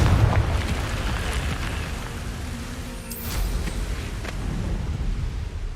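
A Confringo blasting spell goes off in Hogwarts Legacy, a booming explosion with a rumbling tail, followed by a sharp burst midway and lingering low roar; no speech.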